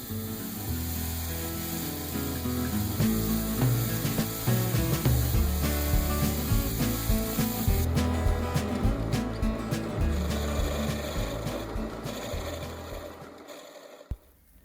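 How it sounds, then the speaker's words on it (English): A power sander works a black cherry bowl spinning on a woodturning lathe, a steady close whirring rush with a constant motor hum that thins out near the end before a final clunk. "And again, I power sand to 320."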